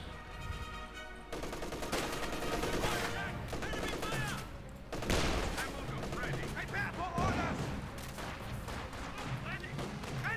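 Dense gunfire and explosions from the World War II strategy game Company of Heroes 2 fill the scene in a battle between Soviet and German forces, with rapid machine-gun bursts and booms throughout, loud and busy.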